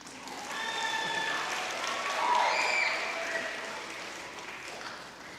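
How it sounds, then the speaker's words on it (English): An audience claps for a brass ensemble, a fairly faint, steady applause that swells slightly in the middle, with a few whoops and voices mixed in. "You can clap. It's fine."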